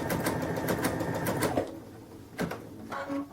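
A sewing machine stitches a kitchen towel in a quick, close run of rhythmic pulses for about a second and a half, then stops. A few brief, faint handling sounds follow.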